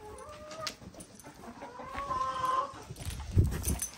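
Chickens on a farm cluck and murmur nearby in a steady, low-level chatter, with a few louder squawks and some scuffling toward the end as a Rottweiler chases them.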